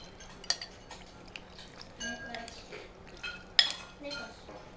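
A spoon or chopsticks clink against a bowl while hoisin dipping sauce is mixed, giving scattered light taps and scrapes with a couple of sharper knocks, close by and under a faint room hum.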